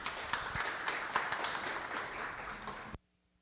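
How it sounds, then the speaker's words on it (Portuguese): An audience at a corporate talk applauding, a dense wash of clapping that holds steady for about three seconds and then cuts off abruptly into near silence. "salva de palmas aí para a Brenda"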